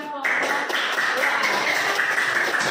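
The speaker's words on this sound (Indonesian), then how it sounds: "Tepuk tangan sekali lagi buat kelompok" Classroom applause for a student group, a dense, steady patter of many hands clapping that starts abruptly and continues at an even level to the end.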